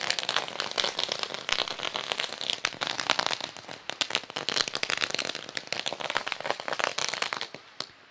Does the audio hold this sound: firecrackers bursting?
yes